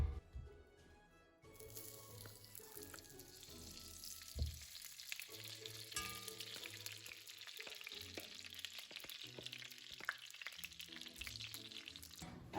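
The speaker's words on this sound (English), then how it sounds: "I'm going to fry this in the ghee." Gulab jamun frying in ghee over low heat, a steady soft sizzle and bubbling that runs throughout, with faint utensil clinks and a few stirring sounds close by.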